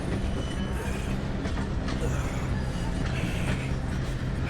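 Train rolls along the tracks in Red Dead Redemption 2, a dense steady rumble and rattle of wheels and cars at constant loudness, with a faint clatter running through it and no voices.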